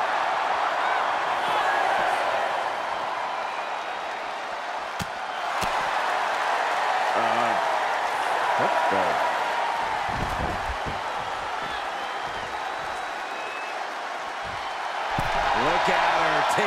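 A wrestling crowd cheers and applauds steadily in the background of an arena, with commentators talking over it for most of the stretch.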